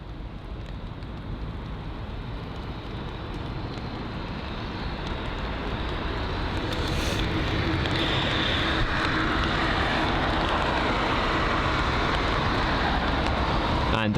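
An Air Belgium A330-900 airliner at London Heathrow roars with a broad, swelling jet rumble that grows louder and fills the air, heard from a distance outdoors.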